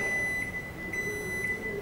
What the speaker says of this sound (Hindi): पांच बीप के साथ अलार्म बजेगा